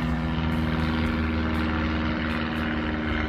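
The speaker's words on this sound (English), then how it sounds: "There's a plane above me." Airplane passing overhead: a steady, loud engine drone with a constant low hum and a broad rushing wash, holding level throughout with no voices.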